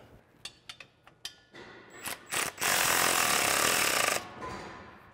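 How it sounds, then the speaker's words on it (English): A 14 mm socket and ratchet wrench tightens an exhaust tip clamp on a 2009-2018 RAM 1500 5.7L Flowmaster dual exhaust, with a few sharp clicks and then a long run of fast, buzzing ratchet clicks up close. "That's gonna tighten down with a 14 millimeter socket and wrench."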